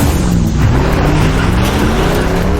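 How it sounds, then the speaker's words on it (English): A car turning around in an action movie scene, loud engine roar and tyre noise sweeping close by, continuous and alone without voices. "forced Malik to turn the car around"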